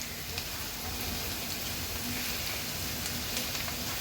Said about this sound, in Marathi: आता हे सर्व मसाले तेलावर फ्राय करून घ्यायचे आहेत